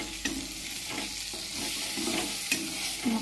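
A spoonful of ginger garlic paste fries with spices in a pan, a soft steady sizzle broken by rhythmic scrapes of a spoon stirring every half second or so, with no voices.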